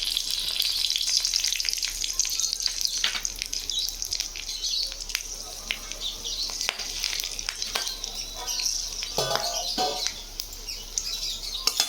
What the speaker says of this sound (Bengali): তেল গরম হয়ে গেছে দুটো শুকনো লঙ্কা আর গোটা গরম মশলা দিয়ে দেবো